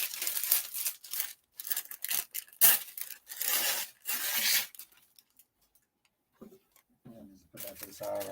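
Parchment paper torn and crinkled at a heat press before pre-pressing a shirt for a transfer: several loud, close bursts of rustling and tearing with short pauses, then a quieter stretch and faint voice at the end.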